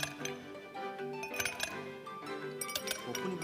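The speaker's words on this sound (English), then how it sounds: "It feels like something shaking in a glass." Ice cubes clink and rattle inside a glass in a Nintendo Switch Joy-Con demonstration, a flurry of bright, irregular taps and chimes, with sharper knocks near the middle and end, at a close, moderate level.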